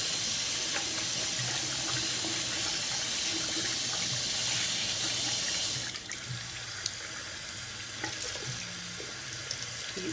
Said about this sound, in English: So I think I'm ready to rinse it out.